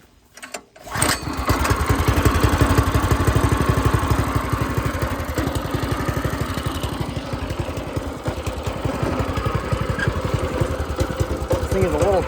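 A freshly carburetor-cleaned go-kart engine sputters to life, then runs with a steady, rapid, buzzy putter close by, loud and continuous throughout.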